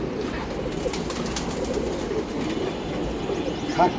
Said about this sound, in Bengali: আজকে আমাদের নতুন কিছু কবুতর আমরা ট্রেনিংয়ে দিতেছি